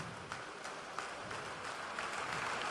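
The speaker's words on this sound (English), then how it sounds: "Canadian players also applauding their opponent for their performance" Applause at a ball hockey bronze medal match between Czechia and Canada, a soft, distant, steady patter of clapping in an arena with occasional sharper claps.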